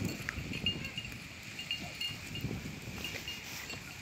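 Goats out grazing on dry pasture in the late afternoon, with a steady outdoor bed of soft rustling, faint bell-like clinks and scattered animal movement, fairly quiet and continuous with no talk.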